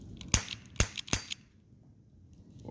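A Big Tex 12-shot toy cap gun fires ring caps: three quick, thin snapping pops in a row, fairly faint, then quiet.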